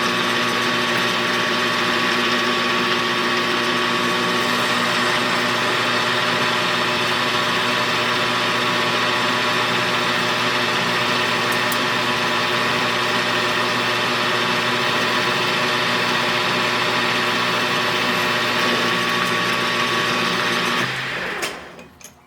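A small metal lathe runs steadily while its tool parts off a metal workpiece, giving a loud, constant whirring hum with a faint rhythmic mechanical ticking, alone, winding down just before the end.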